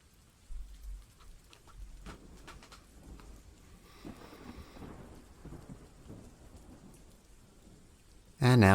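Steady patter of rain and low rumbles of thunder in an Ace Attorney fangame courtroom scene, a soft continuous wash ending in a sudden loud burst.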